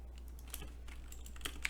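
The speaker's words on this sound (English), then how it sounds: "My typing is so slow right now." Quick, light clicks of typing on a computer keyboard while refactoring JavaScript code, irregular bursts of keystrokes close by and quiet over a low steady hum.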